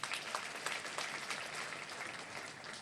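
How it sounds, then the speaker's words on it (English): An audience breaks into continuous applause, a dense and even wash of many hands clapping with no voices over it, heard from a distance and fairly faint. "deserves a louder round of applause"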